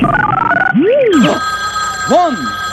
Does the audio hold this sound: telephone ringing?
yes